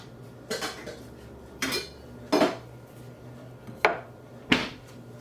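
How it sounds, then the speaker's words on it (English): A heavy saucepan and metal utensils handled on a kitchen counter, five separate clanks and rattles spaced a second or so apart over a quiet background. "we need a heavy saucepan"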